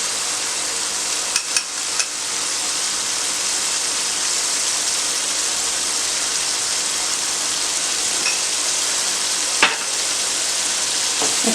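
Gravy sizzles steadily in a pan after lemon juice goes in, a bright continuous hiss with a few faint clicks and pops, no one speaking.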